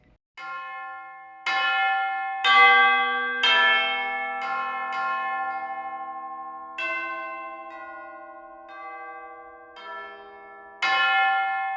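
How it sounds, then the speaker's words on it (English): Sampled tubular bells from a free orchestral sample library ring out one note at a time, each strike bright and metallic with a long, shimmering sustain overlapping the next. "Here are the tubular bells."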